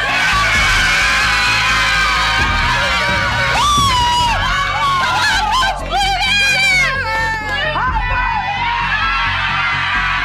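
A sold-out crowd of 18,000 at a college basketball arena roars and cheers, with loud yells and screams over a continuous din, while people shout and speak close by.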